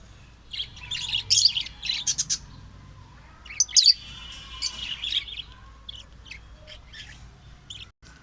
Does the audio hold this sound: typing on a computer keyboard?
no